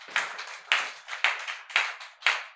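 A church congregation claps in a slow, even rhythm, five distinct hand claps ringing out in a roomy space with no voices over them.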